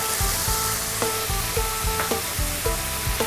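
Pork stir-frying with bamboo shoots in a hot pan, a steady sizzle broken by rhythmic scraping strokes of a spatula, close and clear with no talking.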